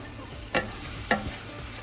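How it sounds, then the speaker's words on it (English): Ginger and hot peppers frying with garam masala in a pan, a soft steady sizzle with two brief stirring scrapes close by, no talk. "So in goes the ginger and our hot peppers"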